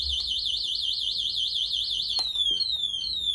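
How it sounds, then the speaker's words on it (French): Anti-theft alarm on a Kugoo M4 compact electric scooter, a loud continuous warbling electronic siren that rises and falls rapidly, then shifts to repeated descending beeps after a sharp click, heard close up with no talking. "une fois que l'alarme sonne, la trottinette freine"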